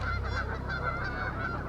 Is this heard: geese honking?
yes